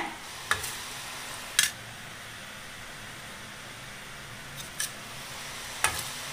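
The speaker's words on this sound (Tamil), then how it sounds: "இப்ப சலசலப்பு அடங்கி வர்றது எண்ணெயில பார்க்கும்போதே தெரியும்" Ragi murukku fry in a pan of hot oil with a faint, steady hiss, broken by a few brief scraping clicks of a utensil as the bubbling dies down.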